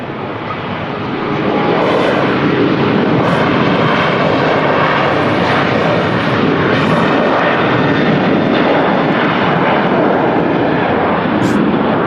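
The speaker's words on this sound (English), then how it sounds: "not a fan of the ATRs. Too loud." An ATR turboprop airliner roars past at Manchester Airport, the loud engine drone swelling in within the first second or two and then holding steady and close for the rest of the clip, with no talk over it.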